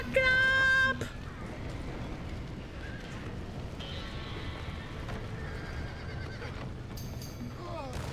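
Horses whinny and neigh in panic in the Red Dead Redemption video game, with a loud close whinny at the start followed by further distressed neighs over a steady background din, with talking mixed in.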